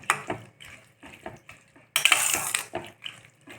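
Soaked flattened rice (aval) is stirred with curd in a bowl, giving soft wet squelching and spoon scrapes in short bursts, with a louder sloppy mixing stretch in the middle.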